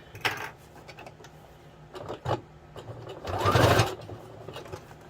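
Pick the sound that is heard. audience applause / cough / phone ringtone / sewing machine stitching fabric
sewing machine stitching fabric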